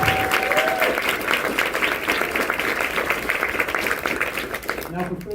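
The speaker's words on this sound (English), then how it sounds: "Can we give a round of applause for Chloe Cole?" A crowd applauds Chloe Cole at a university talk, loud continuous clapping with cheering voices mixed in, tapering slightly toward the end.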